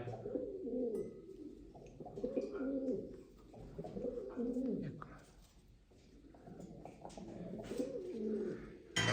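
Pigeons coo in repeated low, rolling phrases, several overlapping nearby, with scattered background noise between calls.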